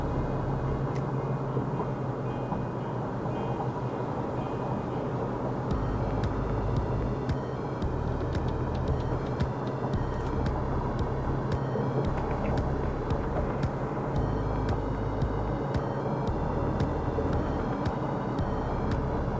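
A BTS Green Line skytrain pulls into Khu Khot station in Bangkok, a steady broadband rumble of rolling wheels and motor hum with faint tonal whines, heard from the platform for a sustained stretch.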